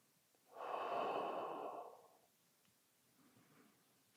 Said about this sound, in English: you can exhale as you come forward, inhale as you return